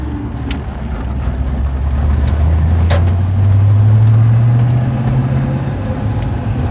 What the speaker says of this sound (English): I think we'll just pull around the corner up here and do the old first through to fifth